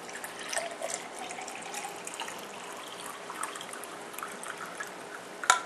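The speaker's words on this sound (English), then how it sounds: "I'm going to put water in the glass." Water runs and trickles steadily as a glass is filled, a continuous faint splashing with a sharp clink at the end.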